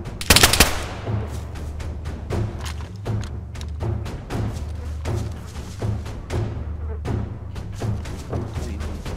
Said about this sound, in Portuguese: Esse cara atirando em mim